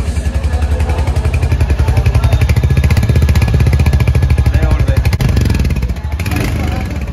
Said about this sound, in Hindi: ये रही भाई बाइक का साउंड।